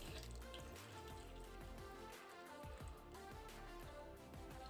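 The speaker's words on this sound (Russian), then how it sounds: "Ну так, наполняю баночку." Cold, raw tap water runs into a small jar being filled for beet sauerkraut, a steady, soft rushing splash that continues throughout without any talk.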